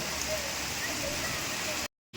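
Steady rain falls in a constant broadband hiss for about two seconds before cutting abruptly to silence, then resuming.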